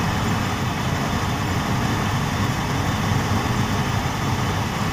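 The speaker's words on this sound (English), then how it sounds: "an engine that's running." An engine idles steadily after its corroded battery box and fuel filter have been dealt with, a continuous, even low hum and rumble with no breaks or changes, fairly close and moderately loud, with nobody talking.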